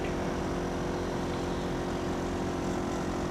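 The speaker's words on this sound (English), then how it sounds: "there goes actually another whole other plane" An airplane passes overhead as a steady, distant broadband drone that holds at an even level throughout, with no talking.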